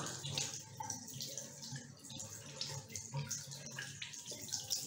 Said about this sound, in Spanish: Luego te enjuagas las manos